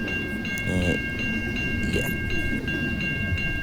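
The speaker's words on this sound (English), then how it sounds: "So maybe I should just like keep recording the train like this, like first person perspective." A Union Pacific freight train rolls past nearby, its steady low rumble and clatter of wagons filling the background while a person says a few words over it.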